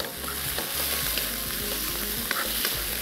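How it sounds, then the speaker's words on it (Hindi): Chicken frying with green chillies and onions in a hot pan, a loud continuous sizzle with scraping stirs and crackling spatters close up, with no talking. "हरी मिर्चें, प्याज, खूब अच्छे से इसको भूनना है, और साथ ही साथ में शामिल कर दिया चिकन"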